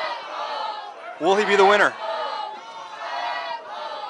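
A crowd cheers at a 2011 Army combatives competition, with a short loud burst of shouting rising over steady background crowd noise while an announcer talks.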